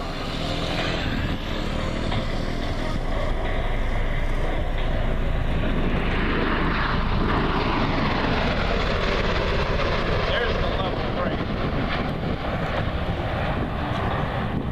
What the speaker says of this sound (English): from their maximum run-in speed, or redline speed of 240 knots, they'll go into a hover